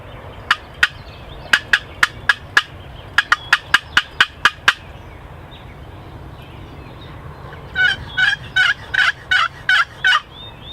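Wild turkey toms roosted on a ridge during a spring hunt gobble loudly and repeatedly. Sharp rapid bursts come in quick series, followed by a second run of fuller, rolling gobbles, with no talking.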